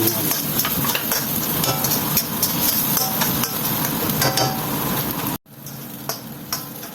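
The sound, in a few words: garlic sautéing in a pan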